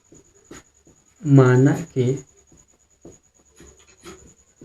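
A math solution being written out by hand, soft scratchy strokes coming in short bursts while a person speaks over them.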